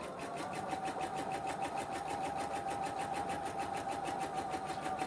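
A sewing machine stitches a fabric postcard with newspaper prints on the fabric, running steadily and fast with a rapid, even needle rhythm, close and continuous with no talking.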